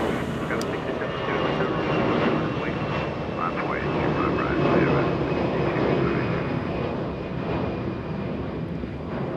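Lufthansa Airbus A340-600 jet at Los Angeles International Airport, a steady broad engine roar that holds loud throughout without breaks, with talk going on over it.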